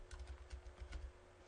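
Typing on a computer keyboard while entering a login label into a table, a quick irregular run of close, soft key clicks throughout with no talking.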